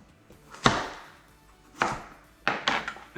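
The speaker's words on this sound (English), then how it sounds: "But we'll just rough chop this." A kitchen knife rough-chops kimchi ingredients on a cutting board, striking in four separate, fairly quiet thuds spread out over a few seconds, with no voices.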